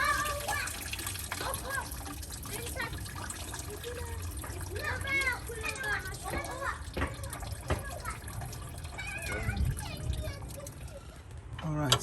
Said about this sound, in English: Remember, more coolant will gush out.